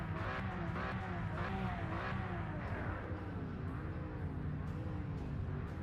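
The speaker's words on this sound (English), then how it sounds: "I hear them revving, or I hear them idling" Race car engines rev and idle together in the Project Motor Racing video game, a dense layered drone with repeated rising and falling rev pulses, heard faintly and without talk.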